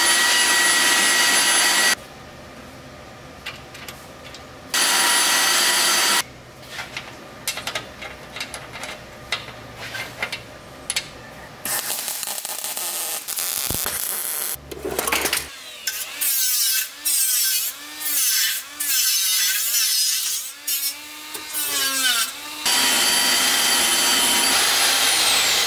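Small metal plates being cut for a car subframe on a rear-wheel-drive K-swapped Nissan Cefiro build, a loud harsh grinding roar in long bursts separated by pauses, with some short choppy cuts.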